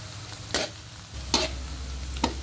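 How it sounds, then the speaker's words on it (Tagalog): Garlic and onion sautéing in a pan for pork giniling, with three brief stirring scrapes spaced out over a low steady sizzle, close and fairly quiet. "hintayin lang po natin mag golden brown yung ating pong bawang at sibuyas"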